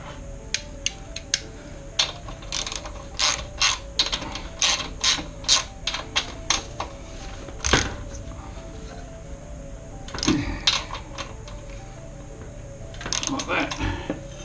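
A ratchet clicks in quick close bursts while 13mm clamp bolts are tightened at the bottom of a motorcycle fork tube during a rebuild, with pauses and a few metallic clunks between runs.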